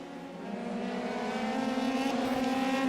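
Several race cars in iRacing, bunched in a queue fighting for second place, roar steadily with layered, harmonic engine whine that builds slightly as they run close together, with no talk.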